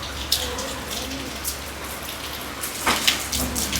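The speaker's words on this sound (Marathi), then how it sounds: "किती पाऊस सुरू आहे" Heavy monsoon rain pours steadily as a dense, continuous hiss with occasional louder splashes, close and unbroken, with faint voices in the background.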